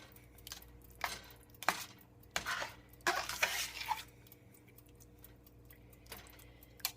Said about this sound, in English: Get this nice and stirred up.